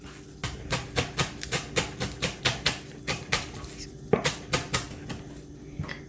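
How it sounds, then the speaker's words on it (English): A knife chopping ingredients on a cutting board for a Latin breakfast of egg, eggplant and bacon, a steady run of about a dozen crisp, evenly spaced taps close by, with no talking. "I'm just going to cut this in half."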